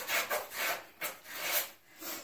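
A nylon-fiber bathroom scrub mitt rubs back and forth across a shower surface in steady, close, rasping strokes, about five or six passes with brief pauses between them.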